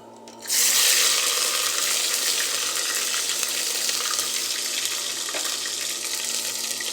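Mustard seeds, fenugreek, cumin, cinnamon, cardamom, cloves and ginger-garlic dropped into hot oil for a kuzhambu, breaking into a sudden loud hiss that holds as a steady, close sizzle.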